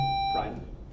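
An electronic quiz bowl buzzer gives a single brief steady beep at the very start, then quickly gives way to a short burst of voices.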